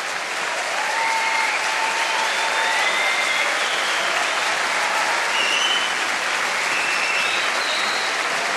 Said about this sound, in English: keep the applause going, please